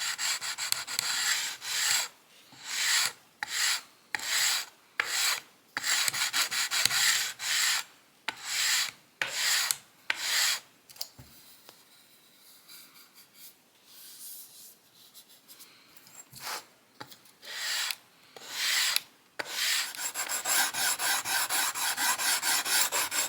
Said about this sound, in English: This is like 150 grit on a little leveling bar, and I'll just be, sanding little by little